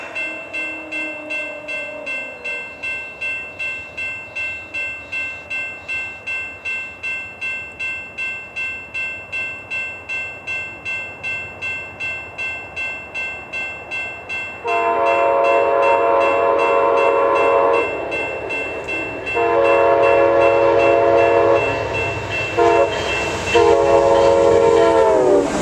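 A VIA Rail passenger train passes outdoors in snow, its wheels clicking in a steady rhythm before loud, sustained horn blasts sound in several bursts as it draws near.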